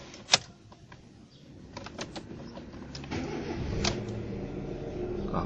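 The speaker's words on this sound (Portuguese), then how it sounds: "Tá aí o motor do Honda Fit. Eu vou dar a partida aqui pra vocês" A Honda Fit engine cranks and catches, a sharp click followed by the motor settling into a steady, fairly loud idle with a continuous hum that could be the noisy compressor, heard up close with no talking.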